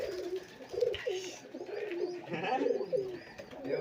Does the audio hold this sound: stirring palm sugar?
no